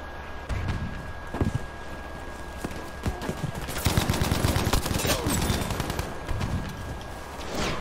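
A Bren light machine gun fires in the video game Battlefield V, its bursts of rapid shots most intense midway, over a constant background of game ambience and scattered impacts.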